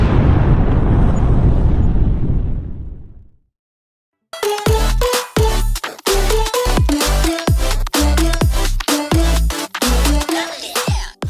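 A big explosion roars out as a long rumbling burst of noise that fades away over about three seconds, then silence, then loud punchy rhythmic music starts.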